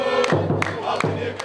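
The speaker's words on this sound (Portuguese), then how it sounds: "a torcida comparece para apoiar o time" Supporters cheer and chant together at an under-20 youth football match in the Copa Alterosa, a loud crowd roar with rising, sustained voices.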